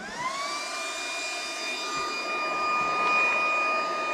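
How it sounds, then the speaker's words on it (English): Cooling fan of an induction heater spinning up after being plugged in, a steady close whirring hum with a rising whine that holds evenly throughout, no talking. "When I do, there's a fan that starts running and it gets hard to hear."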